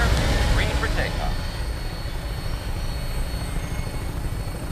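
Aircraft lifting off in Fallout 4, a loud, steady engine and rotor roar filling the scene, with brief voice chatter near the start.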